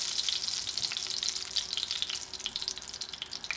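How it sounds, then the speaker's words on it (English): Steak sears in a hot pan with a close, steady, hissing sizzle that crackles throughout. "We'll get a quick sear of that, and then we're about done."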